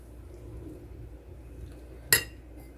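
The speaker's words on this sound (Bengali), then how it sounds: "এখন আমি ফ্রুটসটা মিশাই দিব।" A single sharp clink of a spoon against a bowl while mixing fruit into yogurt and flattened rice, heard once, near and clear, over a quiet room background.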